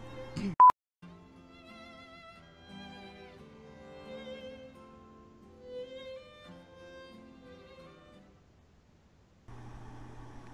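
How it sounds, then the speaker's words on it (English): A video game phone, rung in the game Flowers, plays as a soft electronic ringing tone with steady beeping pulses. It runs for several seconds after a brief loud blip and fades out, then a low hum follows. "Hold the phone, my aquarium is ringing."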